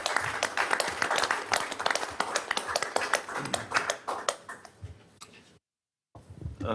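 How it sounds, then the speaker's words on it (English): Scattered clapping from a city council meeting audience, individual claps distinct and uneven, thinning out after several seconds, then a brief silence before a new sound picks up. "I just think they deserve a real round of applause for all the work they did."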